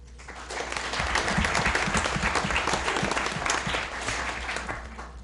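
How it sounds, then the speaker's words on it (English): A school board meeting audience gives a short round of applause, a steady crackle of many hands that swells quickly and fades after about five seconds, with a low hum underneath. "So congratulations to them, round of applause."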